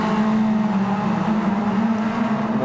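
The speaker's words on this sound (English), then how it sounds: "Sounds like there's a car right next to me" Race car engine drones steadily in Gran Turismo 7 while another car seems to run alongside, a loud constant motor hum with a strong low tone and little change in pitch, no talking.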